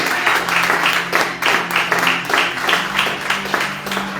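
A church congregation claps in praise, loud rhythmic applause in a steady beat, with voices faintly mixed under the clapping.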